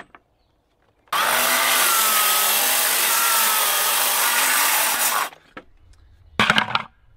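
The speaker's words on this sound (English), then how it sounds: "We are using a carbide tooth blade on our cordless miter saw." A cordless miter saw with a carbide-tooth blade cuts composite deck board in one loud, steady, close whining cut of about four seconds. It stops abruptly, followed by a brief rattle and a short clatter of handling noise.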